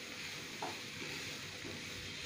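Spices, kitchen king masala and amchur powder, being stirred into a cabbage roll filling in a pan, with a soft steady sizzle and a few faint scraping stirs, quiet and without talk.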